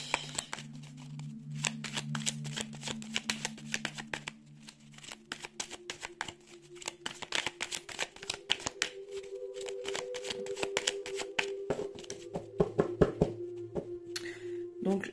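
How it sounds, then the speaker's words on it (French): Decks of tarot-style cards shuffled continuously at close range, with quick riffling clicks and soft taps repeating over a low hum, no talk. "si je brasse beaucoup les jeux, c'est pour me canaliser"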